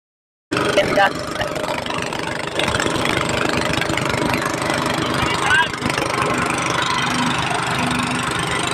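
A boat's twin motors run loud and steady throughout, a constant chugging drone with faint voices beneath it.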